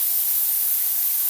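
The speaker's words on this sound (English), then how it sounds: "Now I gotta wash my hands" Water runs in a steady, close hiss from a tap while greasy hands covered in turkey fat and butter are washed, with no voices over it.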